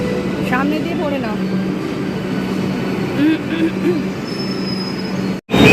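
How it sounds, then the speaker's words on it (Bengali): A Kolkata metro train pulls into an underground station with a rumbling roar and repeated high wheel squeals, loud and close, while voices of a crowd talk underneath. "এই যে আমাদের ট্রেন চলে এলো"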